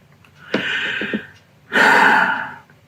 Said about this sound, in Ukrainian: Спокійним диханням, не дуже глибоким.